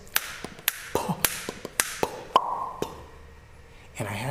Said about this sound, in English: Finger snaps, doing this.